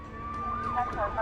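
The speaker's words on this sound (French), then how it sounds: "On a entendu les sirènes." Police sirens approach during a shooting incident at Parkview Crossing, wailing tones rising and sweeping over steady background noise, growing nearer through the short stretch.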